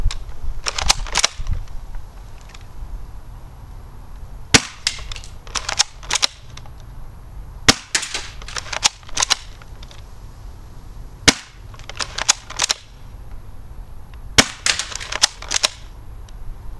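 ASG Franchi SAS 12 airsoft shotgun firing repeated sharp shots, often in quick pairs, each snap loud and close with brief cocking clatter between, spread irregularly over a quiet background.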